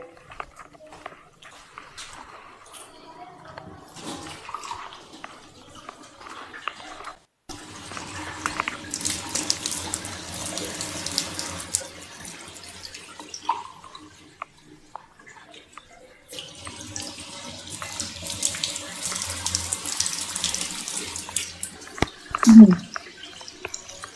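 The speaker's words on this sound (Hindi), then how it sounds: "ऐसे डालना है पानी, ऐसे डालना है।" Water poured and splashing in bursts, sounding like a tap or sink filling, with two longer running stretches separated by pauses, close by, with people talking over it.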